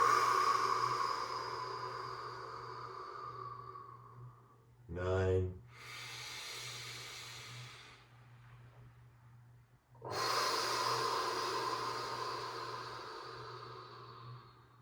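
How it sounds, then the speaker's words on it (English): A slow, deep exhale during a yin yoga breathing exercise, a steady airy rush of breath that fades over several seconds amid a calm instructor-led class, with a low background hum and spoken guidance around it. "Exhaling all the way out."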